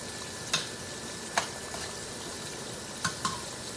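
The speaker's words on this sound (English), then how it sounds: "I'm going to stir this up" Seasoning being stirred into melted butter in a pan over low heat, a steady quiet sizzle broken by four sharp scraping clinks of the utensil against the pan, no voices.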